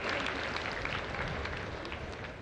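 A large outdoor crowd applauding to thank the Prime Minister at a public event in Dediyapada, dense continuous clapping heard from a distance, steady and fairly faint.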